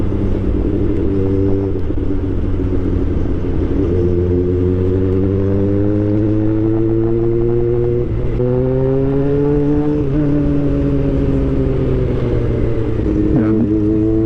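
Honda CB400 Super Four four-cylinder motorcycle engine heard from the rider's position on a road trip, a loud steady drone whose pitch climbs and dips through gear changes, with wind rumble throughout.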